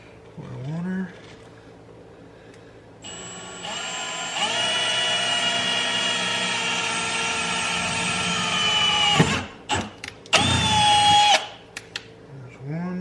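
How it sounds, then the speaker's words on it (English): A power drill bores holes in a Ford F100 during a Holley EFI install, whining steadily at high speed for several seconds, stopping, then spinning up again briefly, loud and close with a voice talking around it. "Start drilling her."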